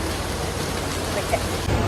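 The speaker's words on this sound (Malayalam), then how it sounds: "നല്ല മഴയാണ് പുറത്തുനിന്നുണ്ടോ നല്ല ചൂരി ചുരിയുന്ന മഴയാണ് കേട്ടോ" Steady, dense monsoon rain in Ernakulam, Kerala, under a red alert, hisses without pause, a constant wash of noise with faint low rumble beneath.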